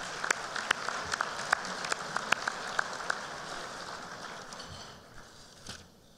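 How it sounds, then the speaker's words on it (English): Sparse applause at a 2019 business forecast event, a handful of distinct claps standing out over soft room noise, thinning out and fading toward the end. "Let's give them a round of applause."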